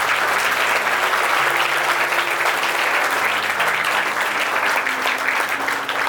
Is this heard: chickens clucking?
no